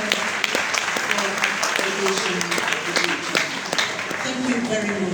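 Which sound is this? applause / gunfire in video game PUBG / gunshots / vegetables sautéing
applause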